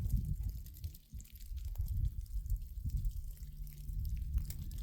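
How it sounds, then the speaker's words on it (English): Melted snow dripping from snow-laden trees at an off-grid homestead in northern Arizona after a snowstorm, scattered drips and patters over a soft, continuous outdoor rumble. "All the trees are dripping with melted snow."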